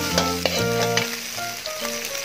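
Beaten eggs sizzle in a hot pan and are stirred, with a close, steady frying hiss and scraping bursts from the stirring. No one speaks.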